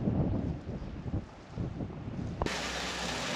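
Gusty wind buffets a microphone outdoors at a roadside wild camping spot, low rumbling bursts that rise and fall, then give way abruptly to a steadier, brighter hiss.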